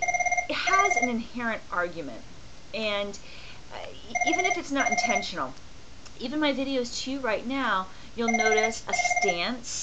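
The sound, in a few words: mobile phone ringing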